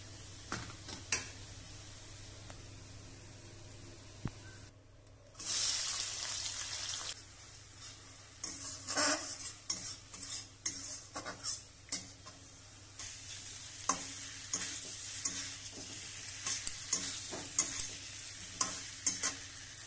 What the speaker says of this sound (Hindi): अभी आलू फ्राई कर रहे हैं